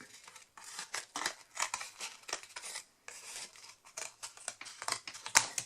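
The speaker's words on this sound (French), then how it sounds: "on en coupe des petits bouts" Scissors snip through small scraps of material for an acrylic mixed-media canvas, a steady series of quick close cuts with brief pauses between them and a sharp click near the end.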